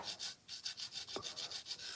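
Rhythmic rasping rub of sanding unfired clay pots, about a dozen steady back-and-forth strokes, close and fairly quiet.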